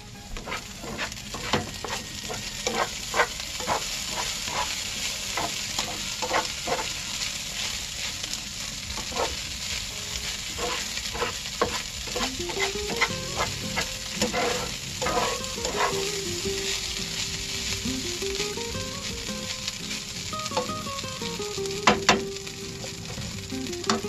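Food browning in olive oil in a pan on a gas stove inside a camper van, a steady close sizzle and crackle with irregular popping spatters and occasional stirring scrapes, running continuously with no talking.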